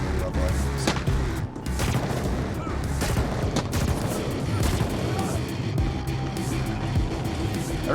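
Gunfire from a player's gun in the video game The Ascent, heard as dense overlapping bursts of shots and impacts amid constant loud game noise and rumble across the whole stretch.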